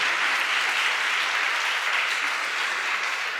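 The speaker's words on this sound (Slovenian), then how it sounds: "Dajmo en aplavz za" Steady, dense audience applause in a lecture hall, continuous clapping without breaks for the whole stretch.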